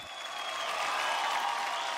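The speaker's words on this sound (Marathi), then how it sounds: "जोरदार टाळ्या." A studio audience on the set of a Marathi TV show claps loudly, a dense, continuous burst of applause that swells slightly and holds steady throughout.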